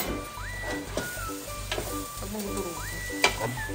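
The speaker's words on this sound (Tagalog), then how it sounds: "Mild na halo lang para hindi madurog yung hotdog" Hotdog slices are gently stirred in a frying pan, a close steady sizzle broken by repeated scraping and clicking strokes of the utensil against the pan, with no talk.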